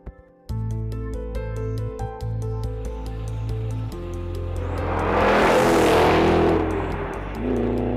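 A 2013 Ford Shelby GT500 on a race track before sunrise, engine note climbing through rising revs with a sustained, loud roar that peaks midway as the car accelerates hard, then steadies.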